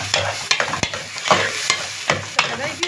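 Shrimp frying alone in hot oil in a pan, a loud, close sizzle broken by repeated sharp scrapes and knocks of stirring.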